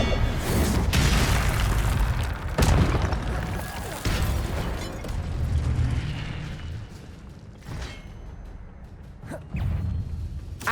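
Spell effects from the Hogwarts Legacy video game, Accio and Incendio cast in combat: repeated booming bursts and whooshes over a dense, loud game soundscape, with a voice calling out the spell names throughout.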